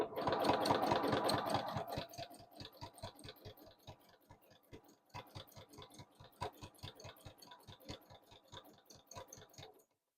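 A sewing machine stitching in free motion quilting mode, a steady rapid needle clatter that starts loud, eases slightly, then briefly stops before resuming at a fast even rhythm, close up with no talking.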